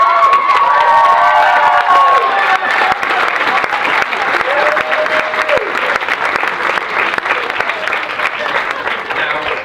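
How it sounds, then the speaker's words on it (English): Crowd at a speech event claps and cheers loudly, with whoops and excited shouts over dense applause that stays strong throughout and tapers slightly toward the end. "Round of applause."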